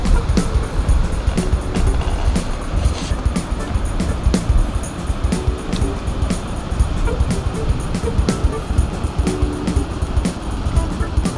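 A fast river rapid rushes past in a steady, loud broadband roar of churning whitewater, continuous and close, with no speech over it.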